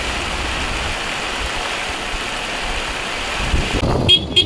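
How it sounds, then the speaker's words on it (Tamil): Heavy rain pours steadily over the hills at Valparai, a dense, unbroken wash of hiss with wind-like roar, growing slightly rougher and louder in the final second. "மழை ஹெவியாக பிடிச்சிருச்சு மக்களே"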